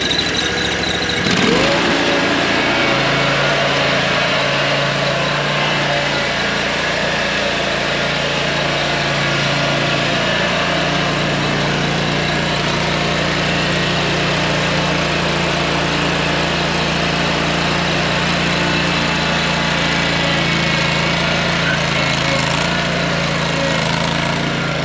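A lawn mower starts up and runs at a steady, loud engine drone with a high whiny edge, close by and continuous for the whole stretch.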